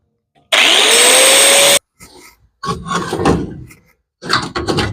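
A grinder runs during the teardown of a Scout 80, a loud steady whine for about a second then cutting off, followed by scattered clunks and scraping of tools on metal.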